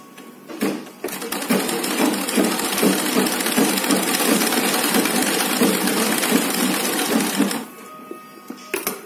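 A sewing machine stitches a layered cloth face mask with a fast, steady mechanical chatter, close and loud, running for about seven seconds before stopping abruptly.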